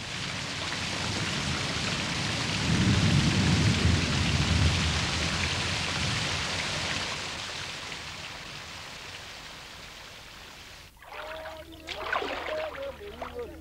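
A heavy tropical thunderstorm on the Nile near the Sobat tributary pours down in a dense, continuous roar of rain with low rumbling, before giving way to quieter outdoor sounds near the end.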